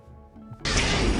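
An anime-style punch sound effect, a sudden loud broadband impact that bursts in after a quiet tonal lead-in and holds as a dense, sustained crash without fading.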